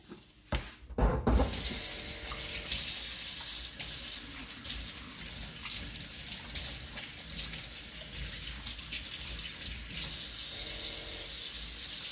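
Water runs steadily from a kitchen sink tap while cooking pasta and meatballs, a continuous close hiss and splash that starts after a few brief knocks and holds for about ten seconds.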